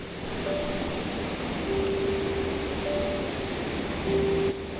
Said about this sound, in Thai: ก็จะเริ่มเห็นกับน้ำตกผางามงอน ที่ชัดเจนมากยิ่งขึ้น